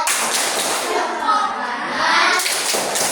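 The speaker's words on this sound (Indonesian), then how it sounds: "Boleh kasih tepuk hebat dulu, silakan" Elementary schoolchildren clap together in the chanted "tepuk hebat" classroom routine, a burst of brisk, loud group clapping mixed with children's voices, ending in a final cluster of claps.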